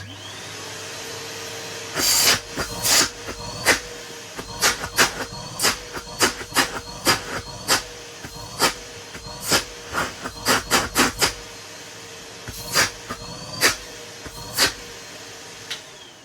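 A Numatic Henry vacuum cleaner runs with a steady, close motor whine and airflow hiss, broken by a series of sharp clicks and knocks scattered irregularly throughout, with no talking.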